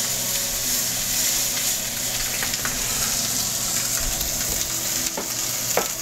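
Lamb pieces hit smoking-hot olive oil in a pan and sizzle steadily and loudly, a dense continuous frying hiss with occasional sharper spits and crackles, close up with no talking.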